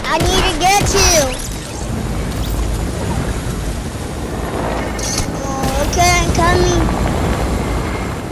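A video game helicopter's rotor drones loudly and continuously, close and steady, while a player shouts over it in bursts.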